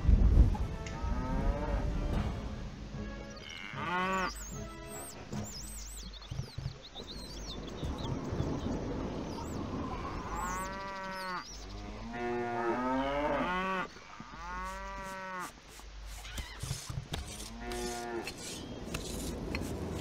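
Cows moo repeatedly in the medieval strategy game Stronghold Crusader, several drawn-out lowing calls close by over a busy bed of game ambience and faint bird chirps.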